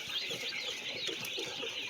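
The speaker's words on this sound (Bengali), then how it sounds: "এগুলো আমার টাইগার মুরগি" Tiger chickens, also called color bird hens, clucking softly and steadily over a constant high hiss of farmyard ambience, with no one talking.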